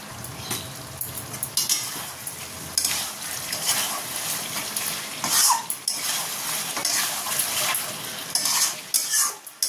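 Chicken sautéed with garam masala, rosewater and dried plums scrapes and sizzles in a pan, with steady close stirring and clattering spatula strokes over a continuous frying hiss.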